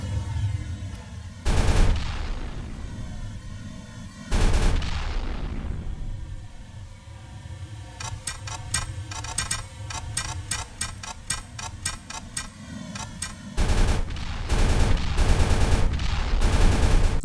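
Loud gunfire and explosions from an indie game jam video game: heavy booming blasts strike at intervals, one an edited Vine boom, and between them a long burst of rapid machine-gun-like shots rattles in quick succession.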